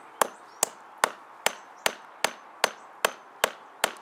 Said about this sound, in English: We have the last test, hammering it into a tree and holding my weight.